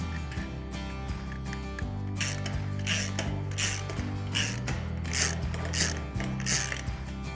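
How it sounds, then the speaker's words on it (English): A 1/2-inch socket and ratchet tightening a bolt on a gate latch, a close metallic mechanical churn with a steady low drone and repeated rasping bursts of ratchet clicks at a regular pace. "using a 1/2-inch socket and ratchet, I'm going to secure this"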